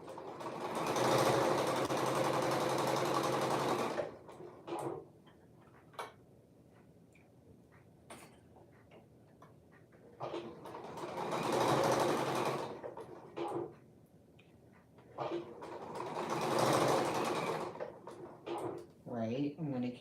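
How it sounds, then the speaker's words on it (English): A home sewing machine stitches a garment seam at a 3/8 inch allowance in three steady whirring bursts, close and loud, with quiet gaps and scattered small clicks of handling between them. "So now I'm going to keep sewing, just keep going right around."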